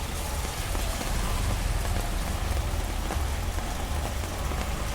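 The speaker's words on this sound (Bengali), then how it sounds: "জলের মধ্যে বড় বড় বৃষ্টির ফোটা পড়ছে" Heavy rain falls in large drops into standing water on a waterlogged outdoor spot, a loud, constant dense patter and splash close by, with no talking.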